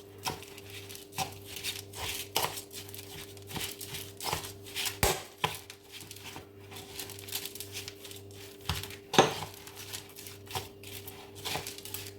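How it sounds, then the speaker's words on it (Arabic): Cabbage roll stuffing being stirred and mixed by hand after a little oil is added, giving soft, irregular squelching and crinkly clicks at close range, with a steady low hum underneath. "غادي نضيف واحد شويه الزيت هنايا، شويه الزيت. وغادي نخلطها"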